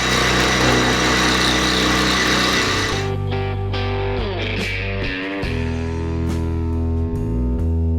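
A homebuilt mini CNC machine runs in a workshop, giving a loud, steady mechanical whine that shifts pitch in steps as it moves, with no talking.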